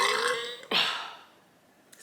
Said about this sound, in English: Excuse me for the burp